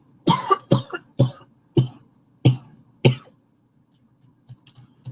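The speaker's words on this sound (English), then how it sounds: "I'm like coughing." A person coughs six times in a quick irregular series, close and loud, followed by a few faint softer throat sounds trailing off into near silence.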